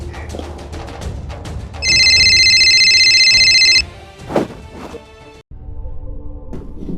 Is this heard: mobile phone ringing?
yes